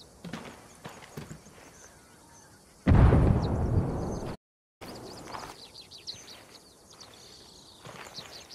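A grenade explosion in the video game Ghost Recon Wildlands bursts loud and close, its rumble holding for about a second and a half before cutting out, among lighter clicks and in-game ambience.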